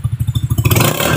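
A racing motorcycle exhaust pulses in a fast, crackling rhythm, then surges louder and denser as the throttle opens, close and alone.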